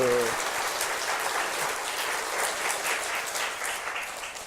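A church congregation at an Easter Sunday service bursts into loud, sustained clapping that fills the room right after a brief spoken line, then tapers slightly toward the end.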